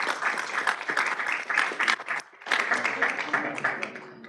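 Applause for champions honoured at a city council meeting, with a steady patter of clapping from a modest room that dips briefly midway and then resumes, plus some voices mixed in.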